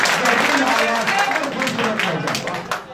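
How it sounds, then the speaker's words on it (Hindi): An audience at a mushaira poetry gathering claps to welcome a poet, a crowd applause that sits under a speaking voice and fades slightly toward the end. "तालियों से स्वागत कीजिए"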